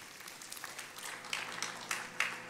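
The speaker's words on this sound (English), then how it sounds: "Let's cheer them on as they share this." Church congregation at a baptism service applauding and cheering, scattered claps building into a fuller round with sharper bursts toward the end, fairly quiet and without talk over it.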